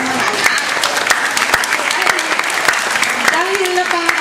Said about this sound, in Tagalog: bigyan naman pala natin ng malakas na palakpak ang inyong mga anak